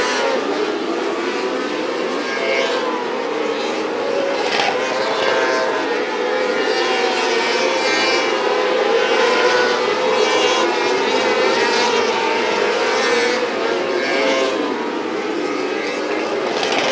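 Micro sprint race cars from the POWRi Outlaw Micro Sprint League roar around Macon Speedway, a steady, loud, continuous engine drone from a pack of cars with no pauses.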